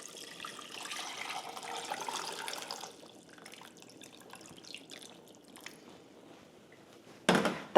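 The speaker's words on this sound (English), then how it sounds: "And we can just cover the potatoes in water." Tap water runs and splashes into a saucepan of whole skin-on potatoes for about three seconds, then drips and small clinks follow, ending in a short loud clatter.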